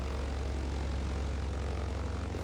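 A propeller aircraft's engine drones steadily at low pitch as it readies for takeoff in MS Flight Simulator, a continuous moderate hum with no voices.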